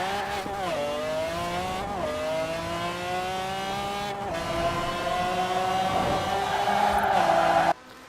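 A race car engine in Forza Horizon 4 revs hard through several gear shifts, its whine climbing repeatedly and building in loudness before cutting off abruptly.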